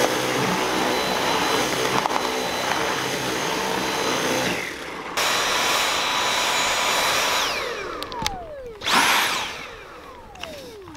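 A household vacuum cleaner roars loudly and steadily, then dies, its motor whine sliding downward in pitch as it winds to a stop, with a brief surge and another falling whine after.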